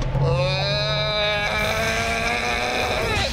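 A 2022 Hummer EV pickup with 1,000 horsepower accelerates hard, its electric drive giving a loud, close, rising whine over steady road and wind rush.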